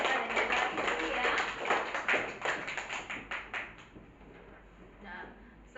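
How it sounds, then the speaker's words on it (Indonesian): Classroom applause from a group of students, a burst of brisk, dense clapping that thins into scattered claps and fades out over several seconds, fairly close and moderately loud. "Kita kasih aplaus dulu buat Rosa dan juga Rizky ya"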